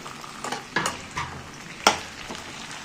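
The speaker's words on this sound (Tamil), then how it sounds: "தக்காளி நல்லா கரைஞ்சி வரணும், அந்த அளவுக்கு வதக்கணும்" Chopped tomatoes sautéing in a pan for tomato chutney, a soft steady sizzle broken by several short scraping stirs of a spoon, close up and without any voices.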